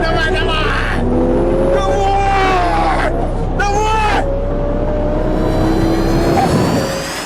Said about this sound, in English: Supercar racers on a Russian highway.